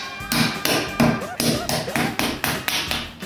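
Repeated sharp cracks and knocks as the back of a knife strikes a lobster knuckle in a kitchen, a steady run of close, loud taps about every third of a second, with a voice talking over them.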